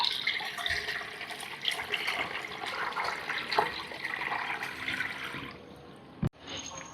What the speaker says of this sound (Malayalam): ഇനി അതിൽ കൂടി പയ്യെ വെള്ളം താഴേക്കാക്കാം